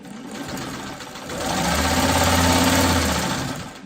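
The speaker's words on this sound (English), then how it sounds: "I'm going to go right next to that stitching about 3/8 of an inch away, and I'm going to sew here" A sewing machine stitches fabric scraps in a single continuous run of rapid mechanical whirring and clatter that builds up, holds and then stops, loud and close with no talking.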